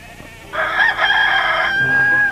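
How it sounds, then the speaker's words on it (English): A rooster crows once, loud and close, a drawn-out strident call that trails off into quieter clucking. "The farm is full of animals. Even cockerels."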